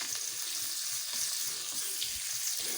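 Finely chopped onion fries in oil alongside green chilli in a home kitchen, a moderately quiet, steady sizzle with soft low knocks running beneath it.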